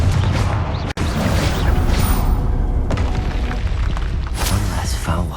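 A Confringo fire spell bursting in a Hogwarts Legacy battle, a dense, loud booming roar with crackling fire and rumbling debris that fills the whole stretch and barely lets up.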